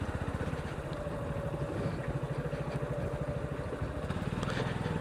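A motorcycle rides along a village road near Beanibazar, Sylhet, its engine putting out a steady, close, pulsing drone throughout without a break.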